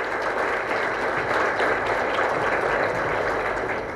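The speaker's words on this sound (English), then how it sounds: "please a big round of applause for the esteemed panelists" Audience applause for panelists at a corporate HR conclave, a dense, steady wash of many hands clapping that holds at an even level throughout with no voices on top.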